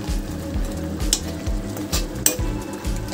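Jute leaf curry sizzles and bubbles steadily in a pan just after slit green chillies go in, with a few sharp clinks of a spoon or utensil against the pan.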